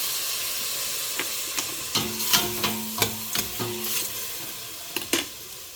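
Chayote sizzles in a hot pan after soy sauce is added, giving a steady frying hiss with repeated scraping clinks of a utensil stirring against the metal, close and fairly loud, with no voices.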